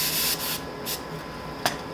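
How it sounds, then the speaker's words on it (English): A rag rubs prep spray off a scuffed casing in quick, close scrubbing strokes, a papery swishing with short bursts and one sharp scrape near the end. "And wipe it off with a rag and get all the smudges off so you don't get any orange peel."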